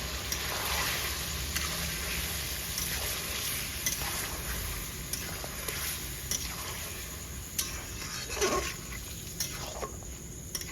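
Paste made from two large onions fries on high heat in a pan for Lahori chicken, giving a steady close sizzle with soft scraping and stirring strokes throughout.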